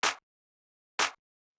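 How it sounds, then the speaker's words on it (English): Layered clap sample struck twice about a second apart, each a short bright burst with a quick decay, dry and isolated with nothing else around it. "the last thing I have in this group is the clap"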